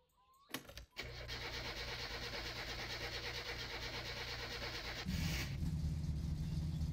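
Satsuma car engine in the video game My Summer Car, fitted with a tuned setup: a brief cranking start around the first second, then a steady idle running on, with a louder, rougher low rumble toward the end.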